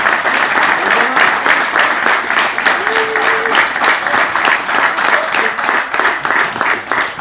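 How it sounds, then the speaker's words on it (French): Sustained audience applause at a rural campaign rally, dense steady clapping filling the room from start to finish with a few faint voices calling out underneath. "Donc on peut les applaudir."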